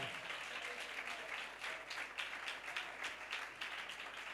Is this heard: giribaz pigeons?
no